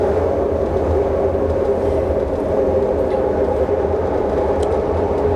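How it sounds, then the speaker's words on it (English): A train rolls past nearby as a steady, loud low rumble with a continuous mid-range roar and faint metallic squeaks, holding at a constant level throughout with no voices. "I think a train is coming."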